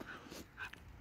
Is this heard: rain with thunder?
no